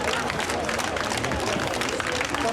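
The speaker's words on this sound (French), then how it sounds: "Sur le perron du palais de justice, la foule applaudit son défenseur, Maître Dupond-Moretti." A crowd on the courthouse steps applauds their defence lawyer, a dense, loud patter of many hands mixed with raised voices and outdoor commotion throughout.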